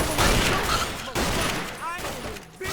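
Rapid game gunfire from Fallout New Vegas rattles out in a loud, dense burst, with a voice talking over the shots.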